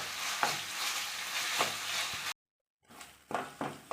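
Masala paste for a king fish curry sizzles and fries in a pan, with stirring scrapes sounding every second or so, then a brief cut to silence before the frying resumes.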